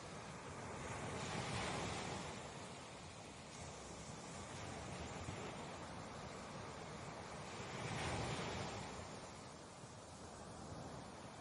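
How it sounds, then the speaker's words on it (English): Ocean surf rolls onto a sandy beach in steady, loud washes, two swells building around the start and again near the end, with wind hiss throughout and no voices. "faint at first, almost hidden beneath the sound of the ocean"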